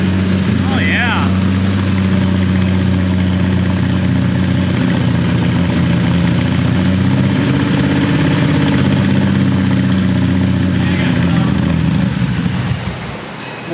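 A freshly rebuilt six-cylinder turbo engine idles steadily and loudly close by, a smooth even rumble that drops away near the end, with people talking over it.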